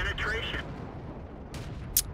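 Tank cannon fire in the World of Tanks video game, with the ARL V39 tank destroyer in play: a faint, muffled rumble of distant shots ending in one sharper, brief crack near the end, under a low continuous battle din.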